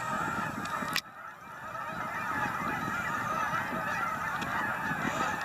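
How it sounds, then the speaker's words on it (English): A large flock of Canada geese honking continuously, many overlapping calls in a loud outdoor chorus, with a brief sharp click early on. "They're Canadian geese, in case you don't know."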